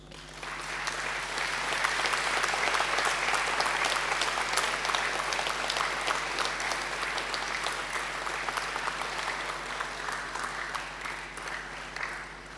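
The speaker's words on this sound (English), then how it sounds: "give them a mighty round of applause" Graduates at a graduation ceremony applaud their families and friends, a large crowd clapping steadily and densely for about twelve seconds without pause, loud and continuous with no talking over it.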